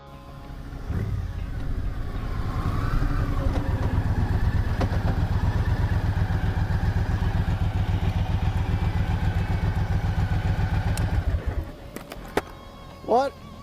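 2011 Triumph Thunderbird cruiser motorcycle running and pulling away, a steady close engine drone with rising revs that cuts off near the end, followed by a few faint knocks.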